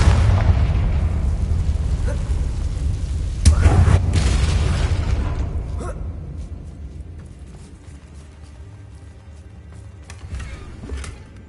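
A Confringo spell explodes in the video game Hogwarts Legacy: a heavy, loud boom bursts out of an already rumbling bed of low blasts, then the rumble slowly fades away, with a smaller thump near the end.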